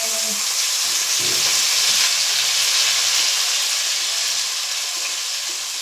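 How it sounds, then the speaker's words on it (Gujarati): Washed rice goes into a hot pan of cumin for jeera rice, setting off a loud, steady sizzle and hiss with a brief stirring scrape near the start. "આપણે આ જે ધોયેલા ચોખા રાખ્યા છે તે ઉમેરી લેશું તેમાં ચોખા ઉમેરી લેવાના છે"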